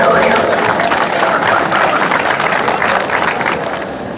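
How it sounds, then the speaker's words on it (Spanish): Loud, dense applause from a crowd at a school parade awards ceremony, sustained throughout with a general crowd roar behind it. "Aplauso, por favor."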